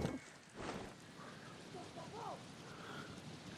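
Rain falls in the video game Far Cry 6 as a soft, steady hiss of drops, heard quietly throughout with a faint voice mixed in.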